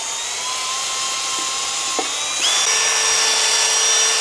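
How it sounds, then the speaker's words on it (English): A high-pitched drill whirs steadily, driving a rotary wire wheel that scrubs gasket surfaces on metal gearbox cases, with a brief pause and shift in pitch midway. "Grab a little wire wheel, put it on your drill,"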